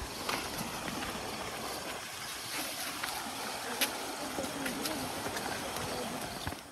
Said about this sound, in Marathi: पाण्याचा आवाज पण ऐकायला येतो आहे.